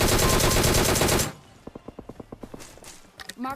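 A Scorpion gun in the video game PUBG fires a loud, dense automatic burst, followed by a quieter string of evenly spaced single shots and a final close burst.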